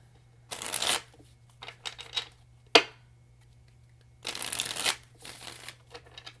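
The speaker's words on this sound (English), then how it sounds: "2 more shuffles." Tarot cards are shuffled in several quick riffling bursts, close and crisp, with short pauses and a single sharp tap between them; no talking.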